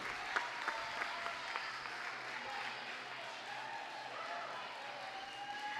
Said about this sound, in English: Let's give a round of applause again to Maggie and Nicole, our seniors at Queen University.